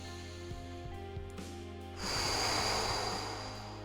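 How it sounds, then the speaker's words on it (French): Deep Wim Hof style breathing exercise: a few soft breaths, then a long, strong forceful exhale or inhale rushing close to the microphone, with no talking. "Juste on va respirer ensemble,"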